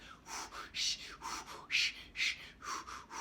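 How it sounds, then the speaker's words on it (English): Quiet, airy mouth breaths are drawn in and out in a loose series of about seven soft rushes during a chair yoga session, close to the microphone with no clear speech. "the breath is actually one of the few cases where I'll encourage you to use your mouth and not your nose for that breath"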